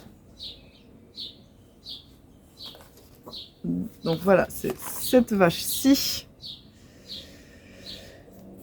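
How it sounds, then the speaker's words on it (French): Birds chirp outdoors in short, regular tweets throughout, fairly near and clear, with someone talking over the middle section. "mais ils sont déchaînés les oiseaux, je suis désolée."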